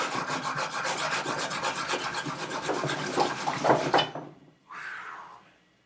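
A hand saw cuts off the stock of a BB gun, giving close, steady rasping strokes for about four seconds before stopping, followed by a brief softer scrape.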